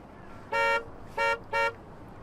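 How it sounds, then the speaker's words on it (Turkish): Three short blasts of a car horn, the second and third quicker together, loud and nearby with no talking. "Kornayı çal."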